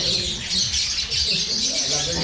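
Pet birds of two bred species call steadily in a Filipino breeder's aviary, a dense continuous chatter of high chirps and squawks, close and loud, with lower murmuring voices underneath.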